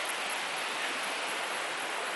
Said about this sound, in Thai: ได้ยินเสียงน้ำตกกันหรือเปล่า